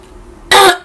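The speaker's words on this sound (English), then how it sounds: "for this question I need to clear my throat" One short, loud throat clearing, a single harsh burst from a nearby voice, with no speech around it.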